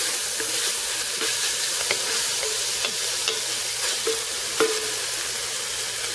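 Vegan cauliflower fried rice stirred and mixed in a hot pan, giving a steady close sizzle with repeated light scraping and clacking of the utensil against the pan, no voices.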